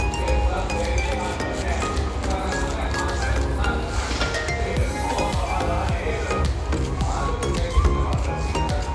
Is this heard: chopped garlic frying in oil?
yes